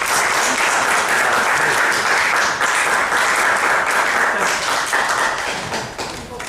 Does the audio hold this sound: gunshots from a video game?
no